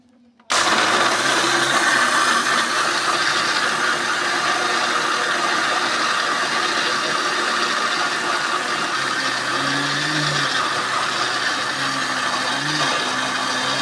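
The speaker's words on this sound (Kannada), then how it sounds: "ಸ್ವಲ್ಪ ಹಲಸಿನ ಸೊಳೆ 3 ಹಾಕಿ ಗ್ರೈಂಡ್ ಮಾಡ್ಕೊತೇನೆ." A kitchen mixer grinder starts abruptly and runs steadily, grinding jackfruit pulp with poha into dosa batter, a loud, continuous whirring motor drone that holds for over ten seconds.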